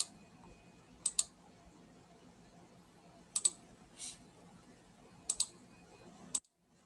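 Computer keyboard keys pressed while drafting in AutoCAD: a few quiet, crisp clicks in small pairs and clusters, spaced by brief pauses over a soft background hum.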